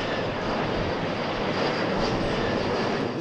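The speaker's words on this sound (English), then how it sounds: "An ear-splitting barrage of constant jet noise now roaring from above." Jet aircraft roar overhead near O'Hare airport, a loud, constant, unbroken rumble and whine filling the whole stretch with no voices.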